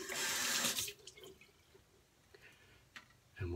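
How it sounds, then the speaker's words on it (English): Warm water runs from a tap over a Schick Quattro Titanium razor blade, a close hissing splash for about a second that fades into faint drips and trickles. "Some warm water on the blade here"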